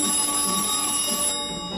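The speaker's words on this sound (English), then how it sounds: "Answer the phone, Jace." A telephone rings steadily through the whole stretch, its bright electronic bell tone sitting over a busy, noisy room background, with no voices.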